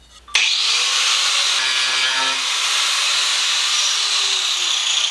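An angle grinder with a tile-cutting bit starts up and cuts steadily along a tape line on a board tail, producing a loud, close, continuous high-pitched hissing whine.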